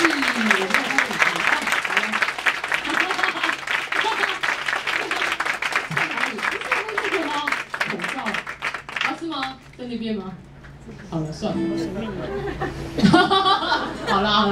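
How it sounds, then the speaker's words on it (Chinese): An audience applauds at a music event, a dense burst of clapping that fills the first several seconds and then thins out, while people chuckle and talk over and after it. "所以给很大的掌声"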